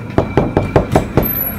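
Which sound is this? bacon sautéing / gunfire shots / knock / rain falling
knock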